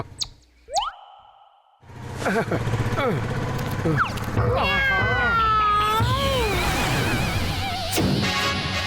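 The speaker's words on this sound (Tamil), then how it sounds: "இந்த பாழா போன பூனை நம்மள ஃபாலோ பண்ணிக்கிட்டே இருக்க" A cartoon cat meows repeatedly in drawn-out wavering cries after a short high squeak and a brief pause, loud and close over a busy background of music and effects.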